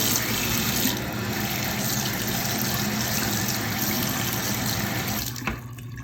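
Tap water runs steadily into a sink while a piston fountain pen is rinsed clean of leftover ink, a loud continuous splashing rush that tails off near the end, with no talking.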